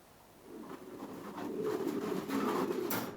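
Pigeons coo softly and repeatedly, low throaty calls overlapping one another, growing a little louder toward the end.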